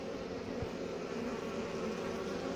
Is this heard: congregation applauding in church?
no